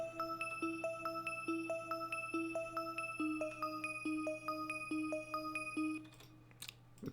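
A bell-like arpeggiated synth patch with harmonics, a Plugg-style arp made in FL Studio, plays steady repeating plucked notes in a bright pattern over a sustained low drone, ending with a brief noisy flourish.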